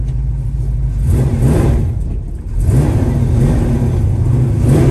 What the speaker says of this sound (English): goes through the gears really well. It's got a lot of pull.